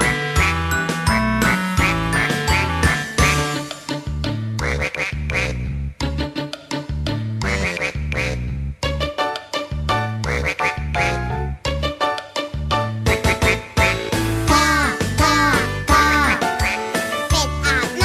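A children's song about a duck bathing in a canal plays loudly and continuously, with bright sung melody, steady bouncy accompaniment and jingly tinkling accents throughout; quack-like vocal sounds appear to imitate the duck within the music.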